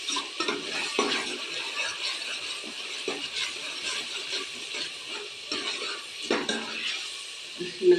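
Carrot, potato and peas stirred and fried in a pan for a mixed vegetable dish, a steady close sizzle broken by scraping spoon strokes and occasional clanks against the pan.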